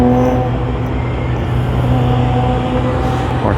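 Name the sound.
Nissan R34 GT-R race car passing at Fuji Speedway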